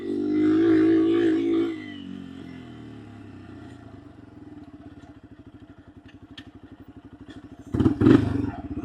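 A Yamaha TW200 motorcycle engine idles while warming up, a close, steady low putter with a fast regular pulse, preceded by a brief louder hum and interrupted near the end by a clattering burst.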